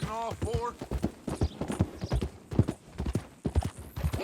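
Horse hooves clip-clopping at a gallop in a Western video game, with a steady rhythmic beat and a whinny near the start, under ongoing spoken dialogue.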